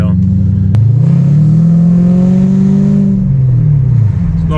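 A Toyota 1UZ V8 in a Soarer, fitted with an X-pipe exhaust, revs loud and close. The engine holds one sustained rev that climbs, stays high, then drops back.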